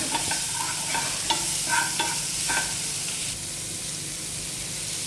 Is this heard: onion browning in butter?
yes